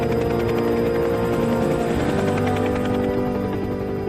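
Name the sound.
helicopters landing and refueling at wildfire base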